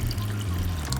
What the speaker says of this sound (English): I'm adding a little more water at this point